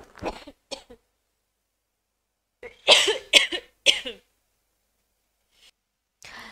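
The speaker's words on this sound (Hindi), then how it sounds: "मुझे थोड़ी खांसी आ रही थी" A few sharp coughs and a throat clear from a woman come in short bursts between stretches of silence, close to the microphone.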